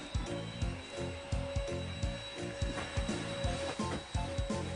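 A household vacuum cleaner runs under a living-room sofa, giving a steady motor whine with rhythmic bumping and rattling pulses as the nozzle pushes back and forth, fairly close and without talk.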